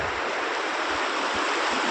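Steady rushing of the Dhatarvadi river in spate after rain, muddy water carrying large logs, a dense broadband flow holding close and continuous with faint low thumps underneath and no voices.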